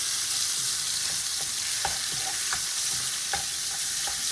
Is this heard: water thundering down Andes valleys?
no